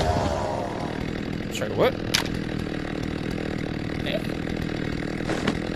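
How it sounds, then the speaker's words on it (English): A chainsaw drones steadily in the video game Saints and Sinners 2 Retribution, a constant buzzing engine beneath brief bursts of voices and game sounds. "Oh my god, they are terrified of the chainsaw."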